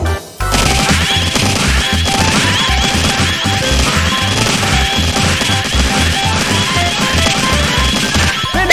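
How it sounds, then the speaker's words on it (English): Hammer whacks knock Pokeys flying in the Mario Party 7 minigame Poke Pummel, a rapid, continuous series of loud smacks and crashes layered over upbeat game music. "Send the pokies flying by whacking them with your hammer."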